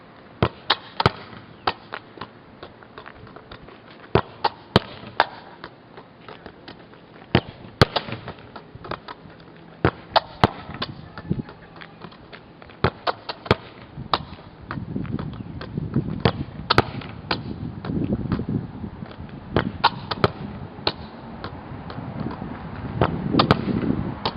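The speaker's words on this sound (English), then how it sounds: "so that you can get it all the way to the wall and have it rebound back to you" A soccer ball is passed against a wall and rebounds during a passing drill, making repeated sharp thumps in an irregular rhythm against steady outdoor background noise.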